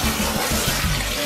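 Canned black beans rinsed in a strainer under a running kitchen tap, a brief loud steady gush of splashing water heard close up.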